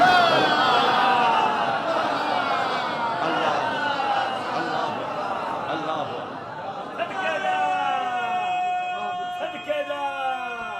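A crowd at a religious majlis chanting slogans in unison, a loud continuous mass of voices that swells and carries on throughout, with a speaker's voice over it.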